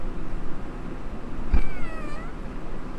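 A pet cat named Kirby gives a single clear, drawn-out meow midway through, close to the microphone, over a steady background hum.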